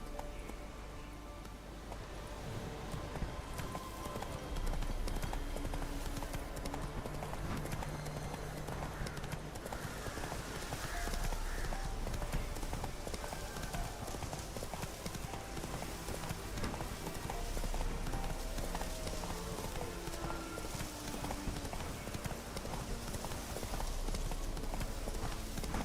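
Roach the horse galloping in The Witcher 3, a rapid continuous patter of hooves held at steady loudness over a dense game soundscape.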